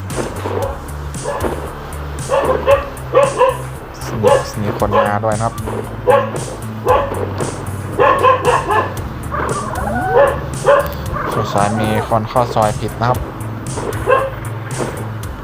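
Dogs bark and yip repeatedly inside the video game ARK, a busy run of barks spread through the clip beneath steady Thai speech and game background noise.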